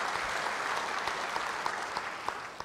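A church congregation claps during a sermon, a steady, dense round of applause throughout with scattered louder claps, no voices over it.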